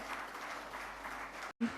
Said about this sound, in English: Can we please give a big round of applause for him, ladies and gentlemen?